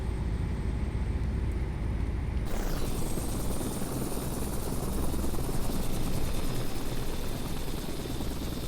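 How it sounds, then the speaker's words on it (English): Helicopter in the Flight Simulator X game: a steady, loud broadband rotor and turbine roar that swells sharply after a couple of seconds, with a high whine running continuously on top. "in case you haven't seen this, they do helicopters"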